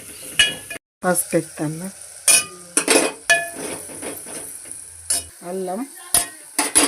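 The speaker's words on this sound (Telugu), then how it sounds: "ఉల్లిగడ్డ పచ్చిమిర్చి బాగా గోలాలి ఎర్రగా" Onion and green chilies fry in a pan, stirred with a metal spoon that scrapes and clinks against the pan in irregular strokes over a soft sizzle, while someone talks between the strokes.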